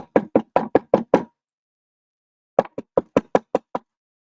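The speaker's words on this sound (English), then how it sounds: "hold on, somebody knocking at the door." Someone raps on a door at home in two sharp, close bursts: six quick knocks, a pause of about a second, then eight more at a steady rhythm.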